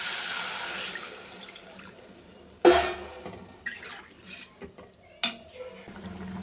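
Water is poured into a pan of cooked spices, giving a sudden splashing sizzle followed by softer bubbling and a few intermittent splashes, close by and with no talk.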